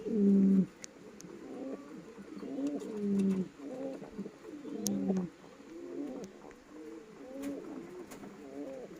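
Foreign pigeons coo in a loft, repeated low throaty rolling calls from several birds overlapping close by, with occasional faint clicks and rustles between phrases.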